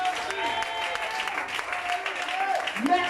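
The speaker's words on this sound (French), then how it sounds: "je veux que tu l'acclames ce matin" A church congregation applauds and cheers God during a French-language service, a sustained dense burst of clapping with voices rising over it throughout.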